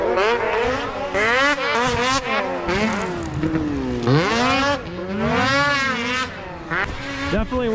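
A 2023 Ski-Doo MXZ RS snocross race snowmobile with a very loud exhaust pipe revs hard nearby, its engine note rising and falling repeatedly in a steady, raw roar.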